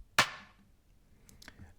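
Two kick drum samples layered together in a music production project, one of them more aggressive: a single punchy, bright-edged hit with a short decaying tail, followed by a few faint clicks.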